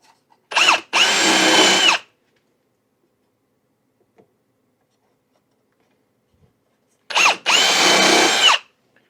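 A power drill drives screws into a piece of 3/4 inch lumber in two loud, close bursts: each starts with a quick blip, then a steady whine of about a second, with a long silent pause between them.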